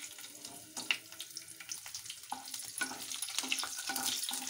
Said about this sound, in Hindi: इसे 2 मिनट भून लें।